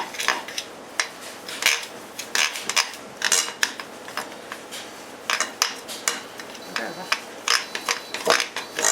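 A cheese cracker mixture is stirred in a bowl, giving repeated close scraping and clinking of a spoon against the bowl in quick irregular bursts, with brief quiet gaps.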